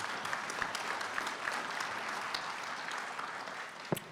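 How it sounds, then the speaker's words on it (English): Applause from an audience at a regional workforce development panel, a steady wash of clapping that holds evenly throughout, moderately loud and without talk over it. "So everybody give them a huge round of applause."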